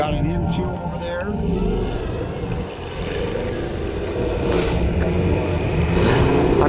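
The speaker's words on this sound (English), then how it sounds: "That Corvette sounds great." A Chevrolet Corvette, a C7 Z06, runs at a race track on a cold day, its engine a steady loud rumble with rising revs. Other cars are around, and someone talks over it throughout.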